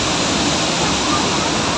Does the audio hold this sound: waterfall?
yes